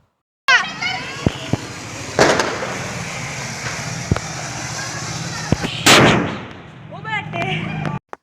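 Diwali fireworks, a 100-shot cake, go off in a rapid string of loud booming bursts with whistling rises and crackle, close and sustained, with a couple of sharper blasts near the end.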